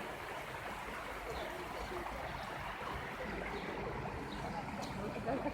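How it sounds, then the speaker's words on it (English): Flood water rushing down a road in Yalta, a steady, dense wash of flowing water heard close by, with no break across the whole stretch. "So here's the water that is coming from up the road"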